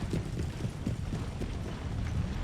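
Horse artillery moves in a strategy video game, a steady stream of dull, overlapping hoof clip-clops with rattling gear that stays close and loud throughout.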